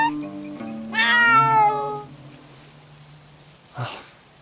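Cats in a video game meow in a long, drawn-out, wavering cry, followed by a short sharp meow moments later, fairly loud and close with no talk.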